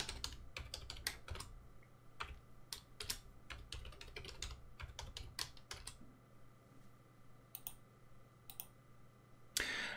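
A password is typed on a computer keyboard for a new Windows Server user account, with crisp, irregular key clicks in quick bursts that slow to a few scattered presses, close and quiet with no talk.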